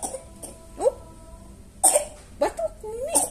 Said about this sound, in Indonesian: batuk ini.